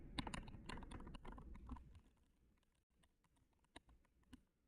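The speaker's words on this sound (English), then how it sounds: "the keyboard is loud enough to trigger the microphone" Computer keyboard clicking, loud enough to trigger a microphone, with dense rapid typing at first that thins to sparse, quieter individual keystrokes, close to the mic.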